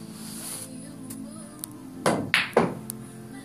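Pool balls clacking on a pool table during a straight-pool-style rack match at a Las Vegas championship, with a few sharp, close cracks in quick succession after a quiet stretch of faint room noise.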